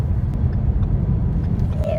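Inside a 2015 Ford Mustang GT Premium, the engine holds a continuous low drone as it accelerates and the revs build slowly, with a faint rising tone near the end.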